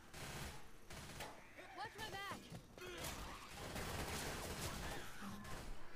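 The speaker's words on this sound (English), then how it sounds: "Just shoot this fully automatic weapons near me" Fully automatic weapons chatter during a Left 4 Dead 2 campaign fight at a research harvest site, rapid gunfire running steadily in the background alongside zombie groans and other game noise, with people talking over it.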